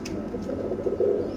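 Pigeon chicks coo nearby in a soft, continuous low murmur, their throaty calls swelling slightly toward the end.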